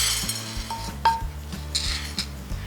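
Roasted toor dal being moved from a pan onto a plate, with a few clinks and scrapes of a metal spoon and utensils close by, no one talking.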